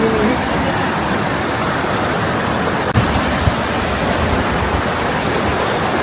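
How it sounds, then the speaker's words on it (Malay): The Polumpung River in Sabah rushes steadily as a constant broadband wash of flowing water, close and unbroken, with no voices over it. "Sungai Polumpung. Polumpung River."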